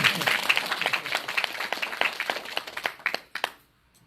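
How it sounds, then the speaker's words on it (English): An audience at a Hindu celebration of life held in Krishna's name applauds, with a scatter of individual claps and crowd noise that thins out and ends abruptly near the close, leaving silence. "I'm sure you can give a better round of applause than that."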